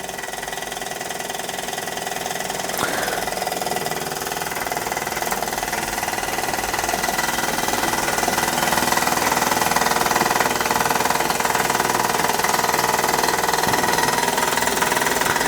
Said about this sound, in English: the GEM model steam engine, made in Wiltshire in the UK, I think around about the 1950s. Running for the first time after its restoration.